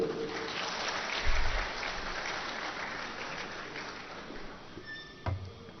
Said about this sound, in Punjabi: ਆਪਦੇ ਆਪ ਵਾਸਤੇ ਤਾੜੀ ਮਾਰ ਲਓ ਇੱਕ